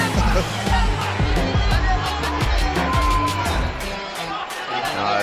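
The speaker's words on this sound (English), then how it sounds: "it's hard to hear when you've got a mob cheering" A loud fight-event crowd cheers and whoops continuously, a dense roar of many voices with bursts of shouting rising and falling throughout.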